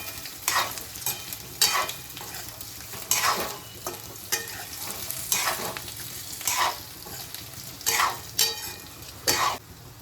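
Potatoes frying in a pan for a fasting-day batata shaak are stirred with a spoon, giving a steady close sizzle broken by repeated scraping strokes at an uneven rhythm.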